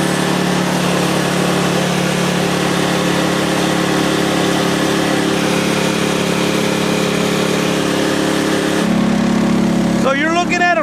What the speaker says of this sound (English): So you're looking at a Frontier Sawmill OS27 that's been modified.